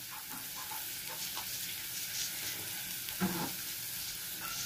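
Pointed gourds fry in a pan for doi potol, a steady close sizzle and hiss of oil with a couple of soft clinks and stirring scrapes as the pieces are moved.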